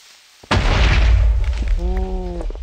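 Creeper exploding in Minecraft: a sudden loud, close boom erupts and a heavy rumbling roar carries on, with a short tonal game sound layered near the end.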